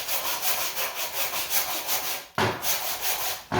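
A hand saw cuts through a tree cookie sample with steady back-and-forth rasping strokes, about two per second, pausing briefly twice; close and fairly loud, no voices.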